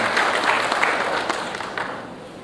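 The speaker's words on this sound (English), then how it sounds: "Round of applause for Mr. Roland Bain, please." An audience at an air cargo conference applauds a speaker, a moderately loud burst of dense clapping that gradually thins and softens.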